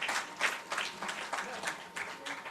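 An audience at an international mushaira in Kuwait applauds with a sustained burst of many hands clapping in uneven rhythm, moderately close and filling the hall.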